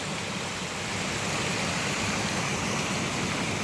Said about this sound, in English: So this is the running water we heard.